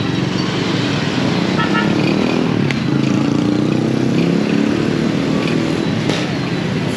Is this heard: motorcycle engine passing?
yes